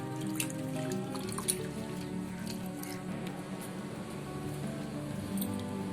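Flattened rice (poha) is rinsed by hand in a bowl of water: soft, close sloshing and squishing with scattered light drips, quiet and continuous.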